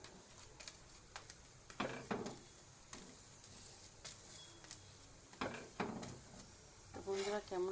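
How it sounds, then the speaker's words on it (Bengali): Paneer paratha frying on low flame in a pan: a soft, steady sizzle with scattered light scrapes and clinks of utensils, quiet throughout, with a brief voice near the end. "হালকা আঁচে ভাজছি এটা"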